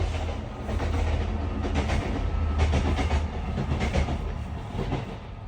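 A train rumbles past near an allotment, wheels clattering in a steady rhythmic clickety-clack over a loud continuous roar for several seconds.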